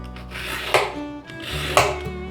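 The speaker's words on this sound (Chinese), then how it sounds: "把红萝卜的蒂头去掉，把红萝卜切片。" A knife slices through a peeled carrot on a cutting board, two crisp chopping thuds spaced about a second apart over a steady background hum.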